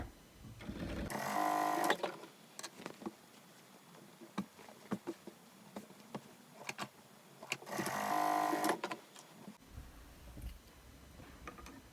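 A sewing machine stitches the seams along both ends of a bolster pillow, running in two loud, steady bursts of rapid whirring with quieter handling clicks and fabric rustle between them.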